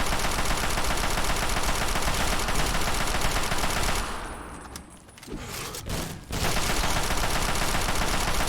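Heavy, continuous volleys of gunfire from the game Fallout 3 fill the scene loudly, dropping away briefly in the middle before the barrage resumes at full strength.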